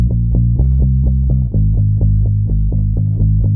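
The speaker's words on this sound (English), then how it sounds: "All I'm doing is playing the root note of each chord and chugging along with the rhythm." Bass guitar in a pop country track plays the root note of each chord, a low steady chugging pulse of repeated plucked notes that shifts pitch partway through, loud and alone.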